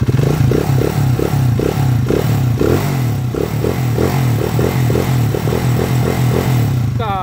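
A Honda TMX 125 motorcycle converted to 200cc runs on a test ride, its engine a loud, steady, close chugging drone with a regular pulsing beat throughout.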